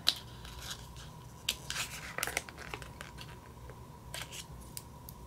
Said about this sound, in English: because I need to snip this off.